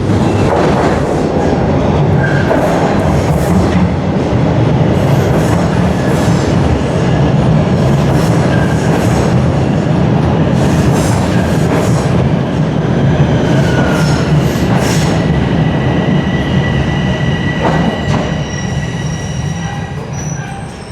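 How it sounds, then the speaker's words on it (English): A Toronto subway train on Line 1 rumbles loudly and steadily, wheels squealing and clattering on the rails as it rolls into the station, with no voices. "I'll resume recording when the train is rolling in."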